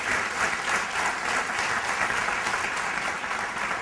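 Continuous, full applause from a large audience at an inspirational talk, a dense and even wash of clapping that holds steady from start to finish with no voices over it.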